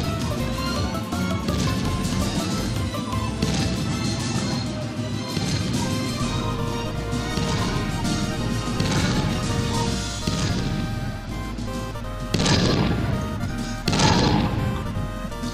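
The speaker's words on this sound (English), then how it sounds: "There's explosions in the air." A video game battle fills the scene with dense, continuous crashing and booming, explosions and impacts piling over one another, with two sharper blasts standing out near the end.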